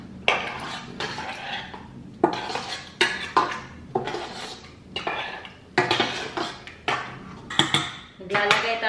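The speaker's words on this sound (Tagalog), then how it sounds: "Lagay tayo ng barbecue sauce. Yan. Halo-haloin lang natin." A utensil scrapes and clanks repeatedly against a pan as barbecue sauce is stirred, in bursts of close metallic scraping separated by brief pauses, over a faint simmer.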